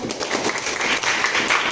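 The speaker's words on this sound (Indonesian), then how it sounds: "Oke, tepuk tangan semuanya." Classroom of children applauding together after a teacher's lesson, a steady, moderately loud wash of many hands clapping with no clear individual claps.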